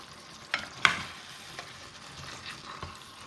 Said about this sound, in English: Just make sure that you mix everything together so that it gets cooked.